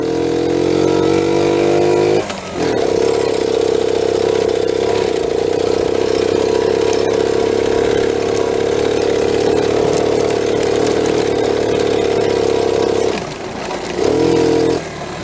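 A Honda Z50 minibike runs on flat tires, its small engine droning steadily and loudly close by, with brief dips in the engine note near the start and the end.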